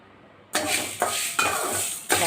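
Green gram dry-roasting in a pan on a stove makes sudden loud, rough scraping and rattling bursts as it is stirred, in several strokes close by.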